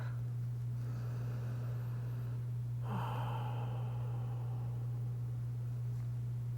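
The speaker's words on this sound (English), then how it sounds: "let's take 2 more long, luxurious rounds of breath" A few long, slow breaths drawn in and let out during a yoga session, soft and close, with one fuller exhale near the middle, over a steady low electrical hum and faint hiss.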